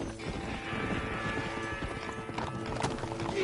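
Horses gallop with a steady, busy clip-clop of hooves in the Western video game Red Dead Redemption, loud and continuous, with a brief whinny in the mix.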